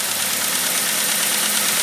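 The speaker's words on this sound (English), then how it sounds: "are misfiring. That's why the engine's shaking the way it is." A 2006 Ford Focus engine idles steadily and loudly up close with a spark plug or coil misfire, giving a rough, shaking hum with a faint knocking undertone and no talk.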